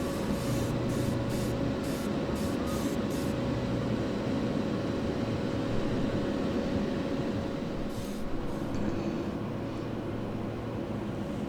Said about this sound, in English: again, I used a 2K automotive clear coat.